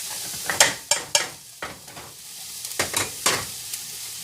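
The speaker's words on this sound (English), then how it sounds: "I love to smell the peppers, the onions, and the chile when they're toasting." Peppers, onions and chile toasting in a pan, with a series of sharp, close scraping and clattering stirs punctuating a light sizzle; no voices.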